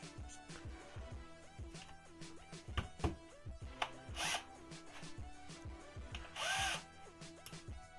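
An 8.5 mm bit drills a hole in a champagne cork, giving a close, quiet grinding whir broken by short bursts and two louder rasping scrapes.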